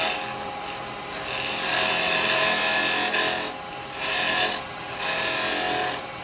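Carbide chisels hollowing a wooden pot on a woodturning lathe give a loud, continuous rasping scrape close up, swelling and easing in several long strokes.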